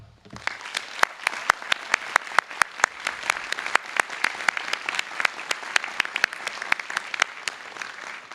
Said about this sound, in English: Let's have a round of applause for these teachers